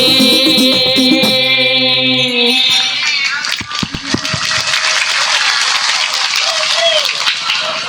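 Music with sustained tones ends and gives way to a crowd clapping, which rises into steady, full applause that carries on to the end.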